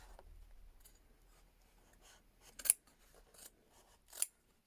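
Scissors snip through denim fabric while a jeans bag is being made, a few soft close cuts with two sharper crisp snips standing out in a quiet room.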